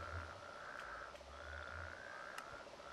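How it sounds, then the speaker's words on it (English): Frogs croaking in the Minecraft modpack FTB Regrowth, a fairly faint, steady layered chorus of game frog calls running continuously with a few brief clicks over the top, no talking. "those frogs are really loud."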